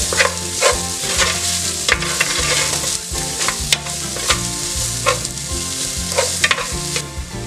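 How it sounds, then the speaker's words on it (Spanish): Onion frying in a little oil sizzles loudly and steadily while a utensil stirs and scrapes the pan in repeated strokes, with no voices. "le voy a poner un chorrito nada más de aceite para que se fría bien la cebolla"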